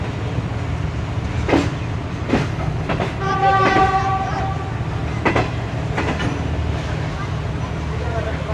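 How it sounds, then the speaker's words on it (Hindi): Cargo train of coupled box cars passing on the other side, a steady loud rumble with clanking wheel hits and a brief tonal horn-like sound in the middle, with voices talking over it. "अदर साइड पे कार्गो जा रहा है जी 9030 के साथ, और 9049 भी इसके साथ कपल"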